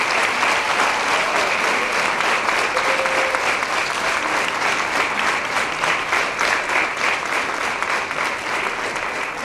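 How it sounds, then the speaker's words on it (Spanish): A large audience at an international congress on cultivating vocational talent claps loudly for the school groups, a dense, steady ovation that holds strong for the whole stretch without fading. "Un aplauso muy fuerte para las pandillas."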